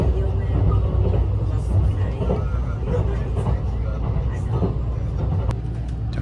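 Cabin of the Shirasagi limited express train running between Tsuruga and Maibara, passing Nagahama: a steady low rumble and rattle fill the car, with faint murmuring voices underneath.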